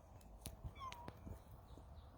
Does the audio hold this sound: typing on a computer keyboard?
no